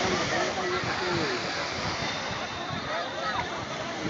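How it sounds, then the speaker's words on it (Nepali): Sea waves break and wash up on Puri beach in a continuous, loud roar of surf and splashing water, with voices faintly present beneath the steady rush. "हेर्नुस् छाल आएको"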